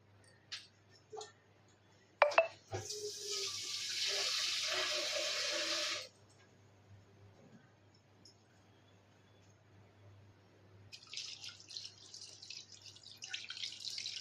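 Water poured into a cooking pot while making a fish curry: a steady splashing pour of a few seconds after a couple of clanks, then quiet kitchen clatter and faint dripping.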